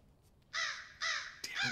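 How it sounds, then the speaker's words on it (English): Crows caw in the horror video game Remothered, three harsh, loud calls in quick succession, near and clear over a quiet background. "I forgot about the birds."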